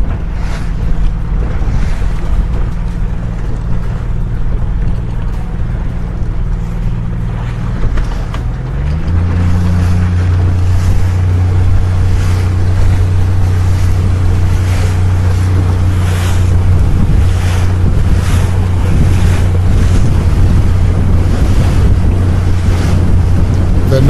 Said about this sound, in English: The noise you are hearing on your ears is from the engines of the motorboats